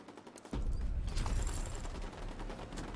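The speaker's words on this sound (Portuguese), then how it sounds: "Nossa, eu tô tomando tiro." Gunfire from the video game The Division 2 breaks in suddenly after a quiet half second, a dense loud burst of rapid shots that keeps rattling steadily to the end.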